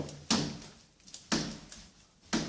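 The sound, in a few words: interior door with hidden hinges making a noise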